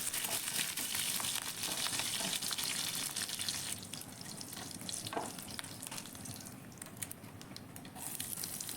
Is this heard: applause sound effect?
no